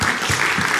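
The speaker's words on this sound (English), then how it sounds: "Can we give them a round of applause, please?" A short, loud burst of audience applause for board members at a dialogue event, dense clapping filling under a second.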